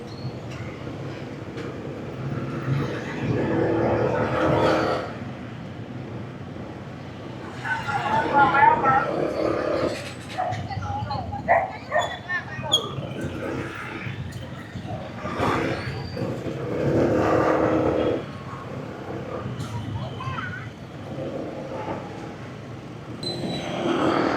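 Busy street traffic outside a crowded public market on Christmas Eve, a steady wash of passing vehicles and crowd noise with people talking throughout.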